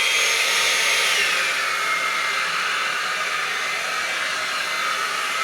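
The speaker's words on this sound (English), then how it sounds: "this is now the hottest setting, so if I blast this through to heat up the ceramic barrel" Trevor Sorbie High Flow Airstyler with a ceramic barrel blowing hot air on its hottest setting, a loud, steady close-up whoosh with no pauses or talk.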